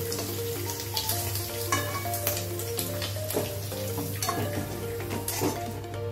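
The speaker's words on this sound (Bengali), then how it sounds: "একটু কালো জিরে ফোড়ন দিলাম, বাটাটা আমি দিয়ে দিলাম, চিংড়ি মাছ বাটাটা দিয়ে দিলাম।" Nigella seeds and shrimp paste sizzle in hot oil in a pan with a steady, loud frying hiss and small crackling pops throughout, with no one talking.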